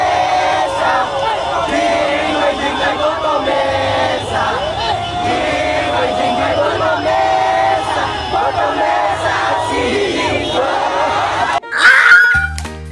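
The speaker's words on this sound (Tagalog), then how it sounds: "Sa kanilang pang-aasar at hiyawan, si Jinggoy Estrada ang kanilang pinagtripan." Rally crowd in the Philippines jeering and shouting at Jinggoy Estrada, a dense continuous roar of many voices at close range, ending in a brief burst of louder noise.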